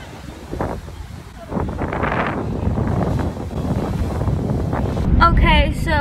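Strong, cold wind at a beach buffets the microphone in a continuous loud roar of rumbling gusts, with people talking underneath and a brief higher chirping sound near the end.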